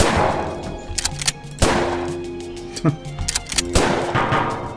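Shotgun loaded with buckshot firing in the Weapons Simulator PC game: several sharp, loud blasts with short ringing decays and clattering follow-up sounds, spaced irregularly over the stretch.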